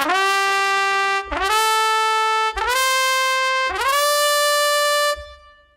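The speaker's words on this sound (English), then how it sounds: "A rip is a note that starts several notes down and comes up to the intended one." A trumpet plays rips, each of four notes scooping quickly up from below into a sustained bright tone, heard alone and evenly spaced, with the last note fading out.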